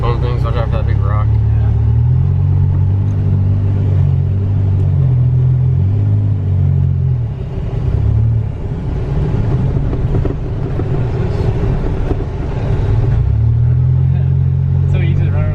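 A custom long travel Tacoma truck drives off-road over bushes, its engine rumbling loudly and steadily up close, dipping briefly midway, with voices talking over it.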